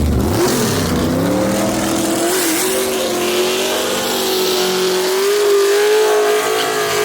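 Gasser drag race cars launch off the starting line at a drag strip with a loud, sustained engine roar that climbs steadily in pitch as the cars accelerate hard, with no voices.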